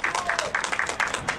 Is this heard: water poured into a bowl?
no